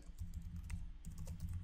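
Typing on a computer keyboard while writing code, a quick run of soft, close key taps in a steady rhythm with a short pause midway, faint and alone.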